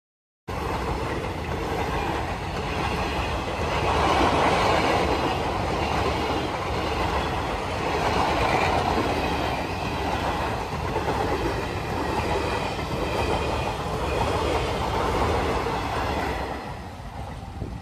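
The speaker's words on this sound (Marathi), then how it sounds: "ट्रेन तर इली." A train rolls past a level crossing near Vaibhavwadi, a loud, sustained rumble and clatter of wagons and wheels that holds steady for about sixteen seconds, with no one talking.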